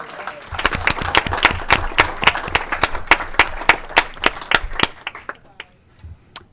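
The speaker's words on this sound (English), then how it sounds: "let's give them a round of applause for all the military family" A committee room crowd claps for military families at a state House veterans and military affairs committee hearing, a few dozen sparse, uneven claps ringing out close by for about five seconds before thinning to scattered last hands.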